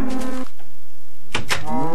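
A cow in the video game Minecraft moos twice, close and loud: one low drawn-out call, a short pause, then a second call.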